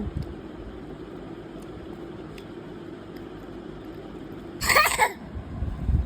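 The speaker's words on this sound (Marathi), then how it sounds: "खोकला येत आहे तुला हो" A young child gives one short, sharp cough indoors after a stretch of quiet room hum.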